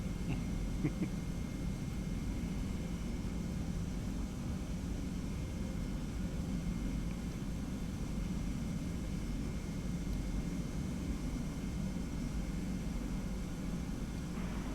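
TFDi Boeing 717 airliner rolling down the runway and lifting off in a flight simulator, with a steady, loud jet engine roar and rumble that holds constant throughout.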